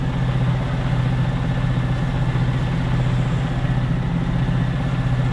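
A hydraulically driven turbo filler on a slurry tanker runs outdoors in wind, a steady, loud mechanical drone with a low, even throb and no pauses.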